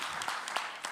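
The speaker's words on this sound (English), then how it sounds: "let's please give them an applause" Audience at a conference breaking into brief applause, a scattered patter of claps in a hall, fairly faint and lasting about a second.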